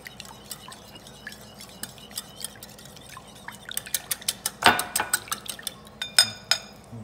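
Whole wheat batter for Indian pancakes is stirred in a bowl, with a spoon clinking and scraping against the sides in quick, light, irregular taps that grow louder toward the end.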